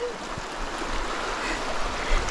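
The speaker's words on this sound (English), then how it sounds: "she should cross right here where the water is moving much slower" A mountain creek in Georgia runs continuously, a close, broad wash of rushing water with small surges and no clear speech over it.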